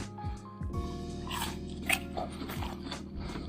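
Teeth bite into a crunchy Taiwanese Shui Mi white-flesh guava, giving a few close, crisp crunches followed by chewing over a steady low hum, without speech.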